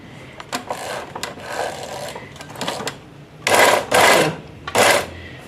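A sewing machine stitches dori piping onto a garment, running in short bursts of rapid clattering stitches with pauses between, ending in a few louder, longer runs.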